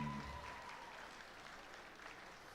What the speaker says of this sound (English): Y'all give it up for Madison Jackson.